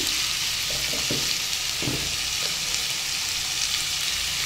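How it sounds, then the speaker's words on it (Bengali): Cabbage and other vegetables sautéing with salt and turmeric in a hot pan, a loud continuous sizzle with a few soft scraping stirs near the start. "এখন সবজিগুলো ভালোভাবে কষিয়ে নেব"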